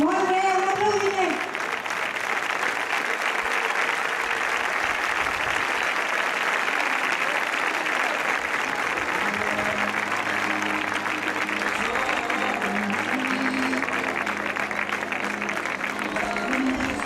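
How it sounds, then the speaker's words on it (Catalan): An audience claps steadily at a school graduation ceremony, a long, even wash of applause heard from a moderate distance, with faint voices and murmurs underneath. "Molt bé, un aplaudiment."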